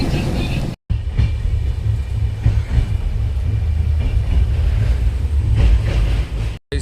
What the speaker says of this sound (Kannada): ನೈಟ್ ಟ್ರೈನ್ ಜರ್ನಿನ ಎಂಜಾಯ್ ಮಾಡ್ಕೊಂಡು ಹೋಗಬೇಕು